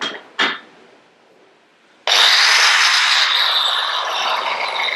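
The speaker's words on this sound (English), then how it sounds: "Let's just try putting a bit of a bevel on there." A Mattox multi-use disc bevelling the edge of a brick: two short knocks and a quiet pause, then a loud, steady, close abrasive grinding that holds to the end, with no talking.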